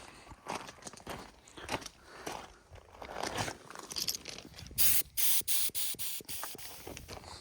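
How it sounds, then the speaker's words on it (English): Compressed air at low pressure hisses into a truck air line, first as soft, irregular background noise and then as a series of sharp, loud hissing bursts in quick succession near the end. "This is why we're going to put compressed air to it."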